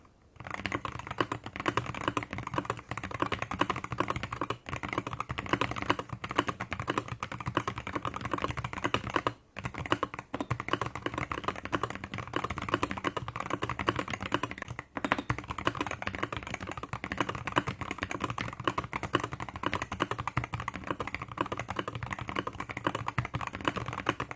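Continuous clacky typing on a Wooting 80HE mechanical keyboard, close and steady, with a dense rhythm of keystrokes and occasional heavier spacebar thuds.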